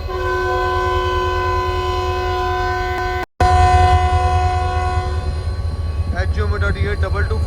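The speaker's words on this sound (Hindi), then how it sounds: "तो आज का ये लोकोमोटिव है जी हमारा।" Pakistan Railways locomotive HUM 82225 leading a train, a loud sustained horn-like tonal drone with steady harmonics over heavy low rumble, briefly cut off midway, with a voice speaking faintly near the end.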